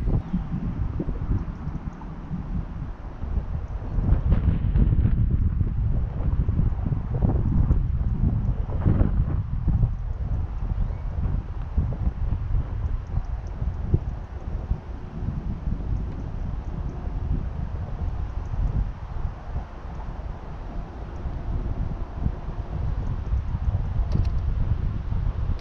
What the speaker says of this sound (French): Par contre on a le vent dans le nez, j'espère que ça s'entend pas trop.